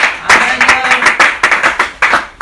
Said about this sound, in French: Let us applaud for the King of Glory.